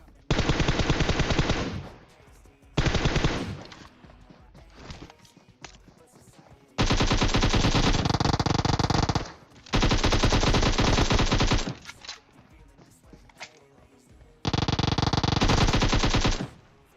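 Bursts of automatic gunfire from PUBG Mobile come in several long, loud volleys separated by brief quieter gaps.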